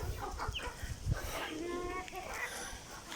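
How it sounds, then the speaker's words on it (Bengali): A young chicken of uncertain sex, hen or rooster, gives a few short clucks and a brief drawn-out call, close by over faint background noise. "এটা মোরগ নাকি মুরগি এটা বোঝা মুশকিল"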